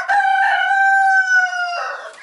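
Broiler chicks and turkey poults in a coop; one bird gives a single loud, drawn-out, slightly falling call close by, followed by a brief rougher note.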